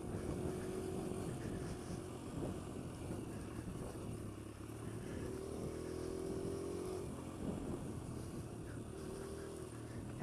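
Kawasaki KLX140L dirt bike being ridden, its engine humming continuously with a few brief swells in pitch as the throttle opens and eases, heard close under a steady rumble.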